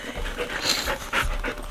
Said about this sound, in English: the dogs are probably just gonna keep making noises